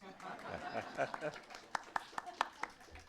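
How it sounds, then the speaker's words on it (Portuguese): A few scattered claps ring out sparsely, single sharp hand claps spaced irregularly over a murmur of voices in a room. "Alguns aplaudiram, outros não"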